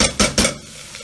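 A spoon gives two quick scraping strokes against the pan while stirring a vegetarian red pepper and sun-dried tomato pâté, close and fairly loud, then it falls quiet.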